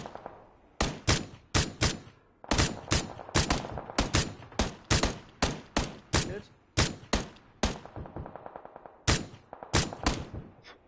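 Gunfire in the PUBG video game, loud sharp shots fired in quick bursts and single cracks, with short pauses between groups.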